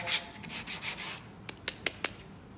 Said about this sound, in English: now I got a hand sanding block. This is good for sanding maybe the edge real quick.